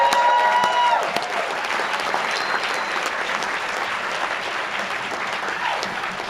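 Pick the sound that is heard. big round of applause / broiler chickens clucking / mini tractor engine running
big round of applause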